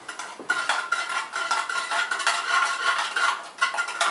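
A big metal spoon stirs Turkish coffee in a small pot, scraping and clinking against the sides in quick irregular strokes, close and clear with no talk.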